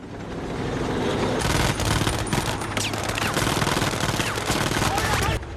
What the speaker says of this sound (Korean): 총알 세례를 간신히 피합니다